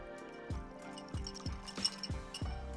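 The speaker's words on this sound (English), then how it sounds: "add a ladle full of hot soup into the sour cream and whisk it together" A whisk clinks against a bowl as hot curry udon broth is stirred into sour cream, with soft liquid sloshing. The strokes come at an even, quick rhythm, close and fairly quiet.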